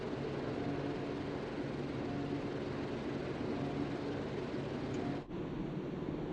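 Steady, fairly quiet drone of Grumman Albatross seaplane engines in Microsoft Flight Simulator, a continuous hum with no talk that briefly dips near the end.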